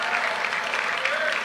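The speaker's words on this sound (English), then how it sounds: "I just say them and you guys clap like harbor seals." An audience clapping at a live comedy show, a dense, even wash of applause held steadily throughout at moderate distance with no pauses.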